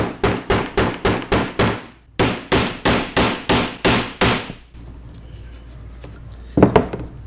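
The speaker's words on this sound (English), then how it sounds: "So the nails are angled out as I hammer them in." A hammer drives nails at an angle into a wood block for a pom pom maker, a rapid run of about thirteen sharp, loud blows in two bursts, then a quieter pause and a final couple of taps.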